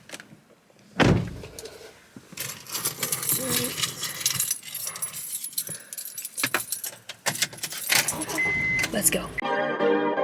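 A car door thumps shut amid jangling keys and interior rustling, then the engine and road noise build as the car pulls away, with some quiet voice sounds mixed in.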